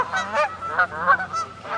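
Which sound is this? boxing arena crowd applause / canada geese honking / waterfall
canada geese honking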